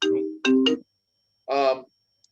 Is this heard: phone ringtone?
yes